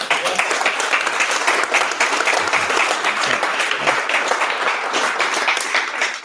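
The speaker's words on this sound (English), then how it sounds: "Big round of applause, everyone." Loud, sustained applause from a crowd at a startup demo night in Cornwall, dense steady clapping filling the whole stretch with no voices standing out.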